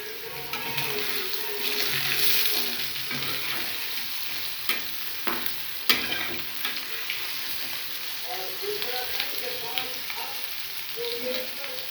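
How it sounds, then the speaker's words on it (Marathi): Semolina-coated fish pieces fry in a pan with a steady crackling sizzle that runs throughout, overlaid by occasional sharper pops and light spatters, heard up close. "आता हे आपण फ्राय करून घेऊया"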